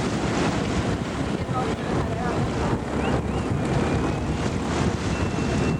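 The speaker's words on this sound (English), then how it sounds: "We took the riverboat from one end of town almost to the other end" Riverboat travelling on the river through Bangkok, its steady engine and water wash mixed with strong wind buffeting the microphone, a continuous loud rumble throughout with no pauses.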